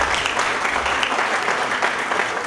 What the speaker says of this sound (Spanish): Fuerte aplauso para él.